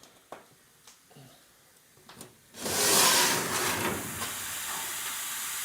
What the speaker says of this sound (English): the pan is popping and creaking and hissing and starting to boil, or not boil yet, but starting to heat up